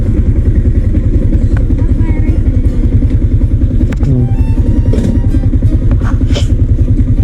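Motorcycle engine idling and running close by on a road trip toward Pasig via Conception-Magalang Road, a steady loud rumbling putter with brief clatters and faint voices and a child in the background.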